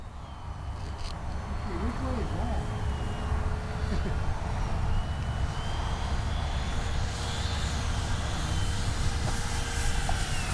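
An FMS Rafale 80mm RC jet comes in to land with gear down, its ducted-fan whine steady and fairly loud throughout, with a rising high tone toward the end and someone talking briefly early on.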